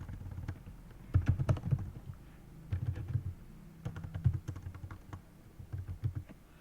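Keys clacking on a computer keyboard while a company name is typed during a web design lesson, soft bursts of quick taps with short pauses between words, quiet and close.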